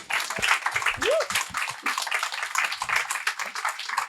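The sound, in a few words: audience applause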